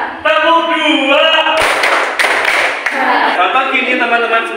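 Students in a school class clap twice in a call-and-response clapping game, sharp broadband claps bursting out loudly between stretches of a voice chanting.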